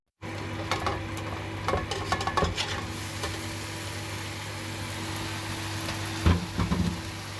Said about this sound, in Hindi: अभी इसको बहुत सॉफ्ट हैंड से अच्छे से मिक्स कर लें ताकि चावल टूटे ना